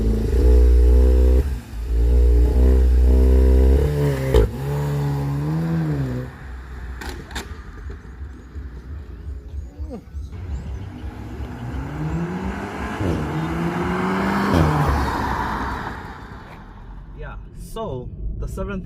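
A VW Golf 7 R, the seventh-generation Golf R, with its engine running and revving: a loud, steady engine drone that rises and falls in pitch through several rev swells, with clattering and whirring mechanical noise alongside.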